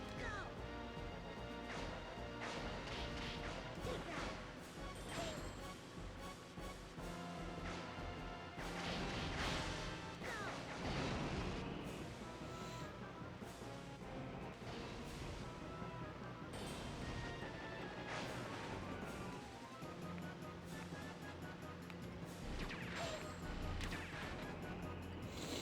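Cross missiles exploding in the PlayStation 2 game SkyGunner, a dense, continuous barrage of loud crashing blasts and whooshes layered over game music for the full stretch, with no pause between detonations.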